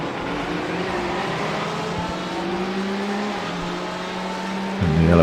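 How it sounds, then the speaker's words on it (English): Race cars in a racing video game, running the Daytona 12 Hours, drone loudly as they brake into turn 1, engine pitch sliding down through downshifts before a sharp burst of revving near the end. "Now we're going to see on the braking into turn 1 how this works out."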